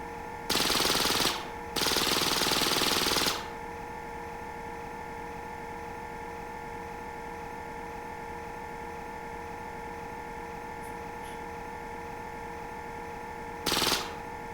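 Automatic weapon fire in the space-survival game Breathedge, two sustained rapid bursts close together, then a long quiet stretch of low electrical hum, and one more short burst near the end.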